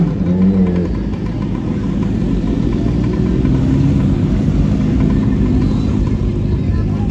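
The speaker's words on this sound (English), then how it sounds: "we know we can hear you've got a bigger engine than us. Keep fucking revving it." A car engine idles and revs loudly and close by at a mod scooter weekender in Brighton, with a steady low rumble that swells in places. People talk over it.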